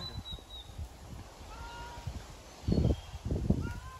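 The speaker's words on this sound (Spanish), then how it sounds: "pero vamos a dejar ese gatito." A kitten stuck high up on the Camino de Santiago in Arzúa, Spain in winter gives a few thin, distant meows over outdoor wind and rustling, followed by two louder bursts of handling noise.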